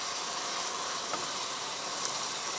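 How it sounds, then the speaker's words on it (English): Tomatoes and shrimp frying in a pan with lemon and garlic, a steady soft sizzle and hiss that stays even and close with no talking over it. "See the extra water that the tomato carry actually frying right out."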